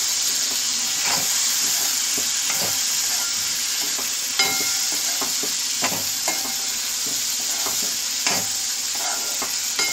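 Tomato, peas and potato sautéing in a spicy masala, a loud continuous sizzle broken by repeated scrapes and clacks of a spoon stirring the pan, with no talking.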